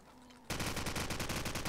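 SMG fire in a competitive shooter video game: a sudden loud, rapid burst of automatic shots after a brief quiet lead-in, continuing steadily to the end.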